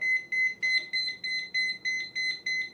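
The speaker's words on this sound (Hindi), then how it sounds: "तो ऐसा कुछ बीप आपको होता है, ये काफी लाउड है" A Coocaa TV remote beeps from its find-my-remote feature, sounding loud, high and shrill pulses in a quick, even rhythm of about three per second, close by and alone.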